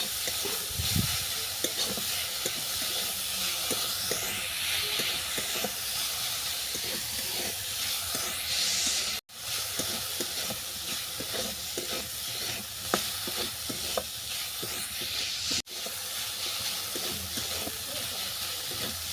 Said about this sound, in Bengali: এই সব উপকরণ আমি ভালো করে কষিয়ে নেব।